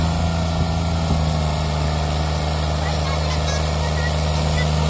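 A Sonalika DI 22 tractor engine runs at a steady, loud idle with a low, constant hum and throb, unbroken throughout; no clear talk rises above it.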